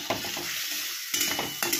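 A spice paste and potatoes are stirred and fried in a pan with a splash of water for kajli fish curry: soft sizzling with a few scraping spoon strokes, close and brief.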